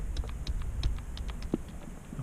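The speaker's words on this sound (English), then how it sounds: "And I'll also be smashing F12 on the keyboard here." A computer keyboard's F12 key is tapped repeatedly during a restart, giving a rapid, irregular string of faint, light clicks over quiet room noise.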